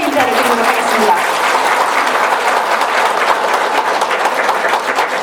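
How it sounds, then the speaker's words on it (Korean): Sustained applause from a crowd at a Buddhist dharma assembly, a steady dense wash of clapping filling the hall throughout without pause. "법사님께 큰 박수로 감사의 인사를 드리도록 하겠습니다"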